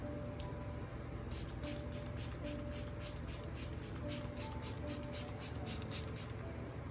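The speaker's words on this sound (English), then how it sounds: "that's a lot of setting spray" Setting spray misted repeatedly onto a face, a rapid series of regular pump bursts near the microphone over a steady fan-like background hiss.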